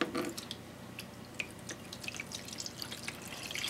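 Water-thinned paint poured into a flat plastic container, a steady splashing trickle with scattered drips, close and fairly quiet.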